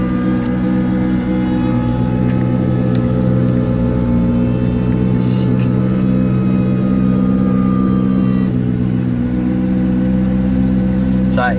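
McLaren P1 idling while switching into race mode, a steady loud engine hum with sustained tonal whine and occasional faint mechanical clicks throughout.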